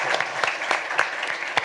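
Applause from an audience at a lecture evening at the Cosmos Club, a dense steady patter of many hands clapping, close and continuous without talk.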